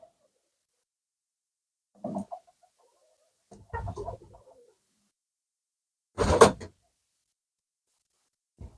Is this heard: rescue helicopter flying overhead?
no